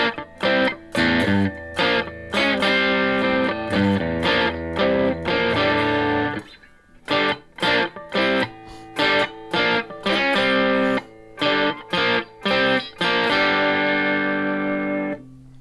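Electric guitar with a humbucker bridge pickup, distorted straight through an amplifier with no effects pedals, plays loud repeated chords and riffs in choppy bursts with short gaps, ending on a sustained ringing chord.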